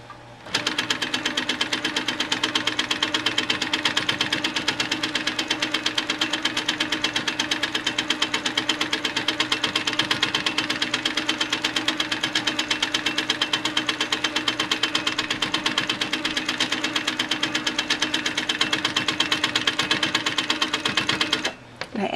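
A quilting machine with a 16-inch quilting area runs steadily for about twenty seconds as it stitches through a quilt block, giving a loud, fast, even mechanical whir-and-tap that stops abruptly at the end.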